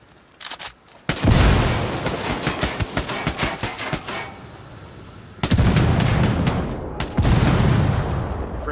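Frag grenade explosion and gunfire in the video game Ghost Recon Wildlands: a loud blast opens a barrage of rapid, close shots that thins, then a second heavy burst of fire and another sharp explosion follow.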